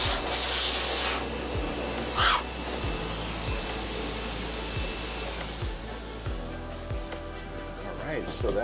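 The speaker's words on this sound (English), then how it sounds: "And now we blow dry." A blow dryer dries a French bulldog after a bath, making a loud, continuous close-up whir with a drone that repeatedly dips as the airflow shifts.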